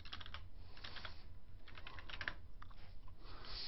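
Quick, uneven clacking of computer keys in bursts, close by and fairly quiet, with short pauses between flurries of typing.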